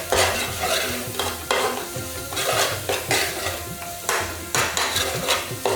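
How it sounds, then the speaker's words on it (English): Chili flakes and garam masala get stirred into mango chutney in a pan. A spoon scrapes through the thick mixture in a loud, close, rhythmic way over a steady sizzle. "Give it all a stir in."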